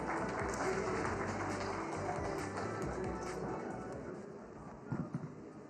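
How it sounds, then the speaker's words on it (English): Audience applause at a live political roundtable event in Karnataka, a dense, steady wash of many hands clapping that holds for several seconds and thins slightly toward the end, with a few louder claps near the close. "A big round of applause."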